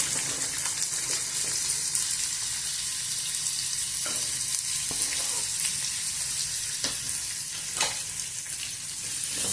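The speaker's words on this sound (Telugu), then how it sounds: "ఆవాలు జీలకర్ర వేగుతున్నాయి కదా ఇప్పుడు ఉల్లిగడ్డ వేసుకున్నాము" Onions sizzle steadily in hot oil with mustard seeds and cumin for a brinjal curry, a dense continuous frying hiss punctuated by a few sharp stirring clicks, close and fairly loud with no talk.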